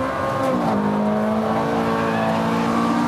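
A Ferrari F430 Scuderia with a sequential gearbox racing on a track, its engine screaming loud and close with steady, pitch-shifting tones as it works through the gears.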